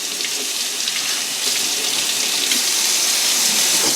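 Tap water runs steadily as refinished parts of a NuTone IS69 entry door station are rinsed, a continuous close splashing gush with no talking.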